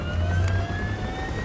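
Military helicopter rotors and turbines spool up in the video game Call of Duty: Black Ops, a steady loud whine with a rising tone and a low throbbing rumble beneath, heard alone.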